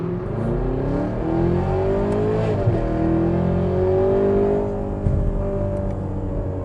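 A Chevrolet Camaro ZL1 V8 with an aftermarket exhaust revs loud and close, pitch climbing then easing back, rising again, and settling into a rough, rumbling idle with a brief blip near the end.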